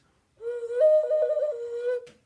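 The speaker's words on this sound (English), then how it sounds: "Here is a duck whistle." A handmade ceramic pinch pot duck whistle, shaped like an ocarina with several finger holes, is blown once, giving a clear, steady, slightly wavering tone of about a second and a half in a quiet room.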